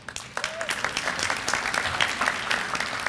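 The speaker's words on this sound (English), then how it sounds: "Let's give our teachers a big round of applause." Audience applause for teachers and principals at the Dearborn City Beautiful Commission 2023 kick-off event, a steady wash of many clapping hands filling the space, moderately loud with a few sharper claps standing out, no talking.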